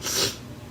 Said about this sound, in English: Sniff one.